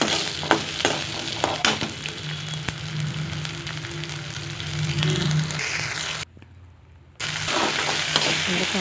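Cut turkey berries frying in hot sesame oil, a dense continuous sizzle with stirring scrapes, loud and close, briefly dropping away for a moment before resuming, no voices.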